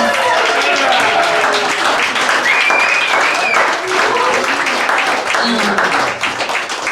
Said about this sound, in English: can we give one more massive round of applause to this incredible Hazlitt family